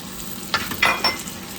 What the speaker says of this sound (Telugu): ఇదిగో ఈ చింతపండు పులుసుని కూడా ఇందులో పోసేస్తున్నాను